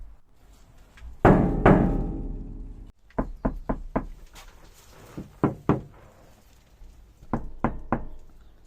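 Knuckle knocks on the bare metal panels of a Peugeot Expert van, first a couple of booming, ringing hits, then after deadening mats a series of short, dull, damped taps in quick pairs and triplets, close and loud.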